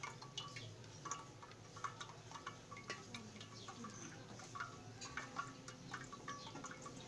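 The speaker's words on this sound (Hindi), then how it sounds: "अच्छे तरीके से छान लें।" Peach juice is strained through a sieve, making a faint, steady trickle with light irregular drips and small ticking sounds, quiet and close.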